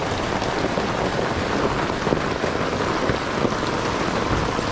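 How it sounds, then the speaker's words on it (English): Heavy rain pours onto a fishing boat on Western Port Bay in rough weather, a dense, loud, continuous hiss and patter of drops without any talking. "I wish it would stop raining so I could go home."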